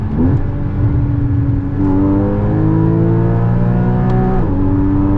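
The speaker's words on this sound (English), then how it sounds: "Oh, and it gargles out of the exhaust too." A Porsche 981 Boxster S with PDK gearbox accelerates hard through several upshifts, its engine note climbing and dropping at each shift while the exhaust gargles, loud and close, with no talking.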